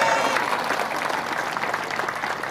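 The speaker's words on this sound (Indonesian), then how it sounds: "Tepuk tangan." A crowd claps steadily and loudly, a continuous wash of applause that tapers slightly toward the end.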